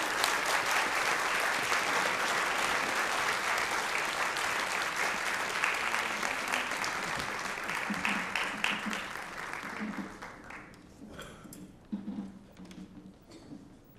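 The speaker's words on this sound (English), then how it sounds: "Please give them applause." Sustained applause from a conference audience as a speaker and chairman are invited onto the stage: full, dense clapping that thins toward the end into scattered individual claps, with faint murmuring underneath.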